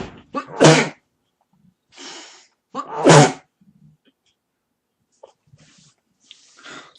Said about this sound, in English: Sorry with the sneezing